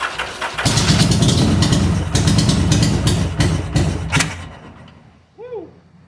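A Yamaha Virago bobber motorcycle engine runs loud and rough on choke for about four seconds, then cuts out, leaving quiet with a brief voice near the end.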